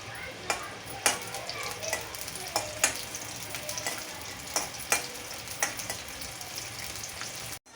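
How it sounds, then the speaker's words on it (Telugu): Cashews and almonds fry in ghee in a pan, a soft continuous sizzle with regular sharp ticks and scrapes of a spoon stirring against the metal, close and fairly quiet. "అందులో ఫస్ట్ ఘీ వేస్తున్నాను. మొదట మనం కాజు బాదం ఫ్రై చేసుకుందాం."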